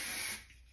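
One short hiss of hair spray aimed at the base of a ponytail, loud and close, cutting off after about a third of a second.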